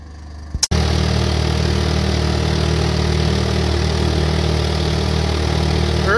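Small sailboat motoring under engine power along a river through wetlands, a steady close outboard drone running continuously after a brief knock at startup.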